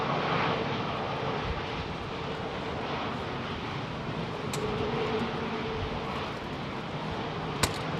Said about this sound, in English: Got that lovely A220 coming out, creeping forward.